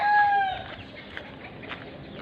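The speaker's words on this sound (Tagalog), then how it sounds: "Ang lalaki ng manok na dito." Chickens on a farm cluck and a rooster crows, with a brief high crow at the start followed by scattered clucks at moderate distance.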